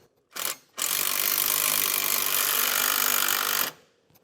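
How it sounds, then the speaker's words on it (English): A ratchet fitted with a 9/16 socket snugs down bolts while installing SumoSprings Maxim helper springs on a 2014 Ford truck, one short burst then a steady, loud clicking run lasting about three seconds. "We'll come back with a 9/16 and snug them down"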